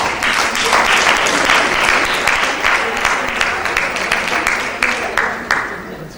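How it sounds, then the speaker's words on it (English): A round of applause from the audience at a midwifery conference in Nigeria, with loud, dense clapping that runs steadily and then thins into scattered claps toward the end. "Please give her a round of applause."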